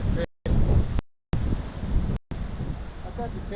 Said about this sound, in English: Oh, little breeze coming through.